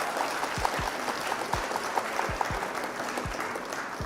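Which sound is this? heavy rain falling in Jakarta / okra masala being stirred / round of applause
round of applause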